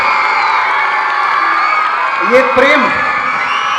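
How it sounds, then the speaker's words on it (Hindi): A crowd of schoolchildren cheers and claps at a residential school performance event, a dense, loud, sustained roar with brief shouts rising above it, while a voice speaks over the noise. "जोरदार तालियां बच्चों, विवेक सर।"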